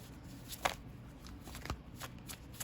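Tarot cards being shuffled by hand, quick soft riffling and flicking bursts with a couple of sharper snaps, close and quiet with no talking.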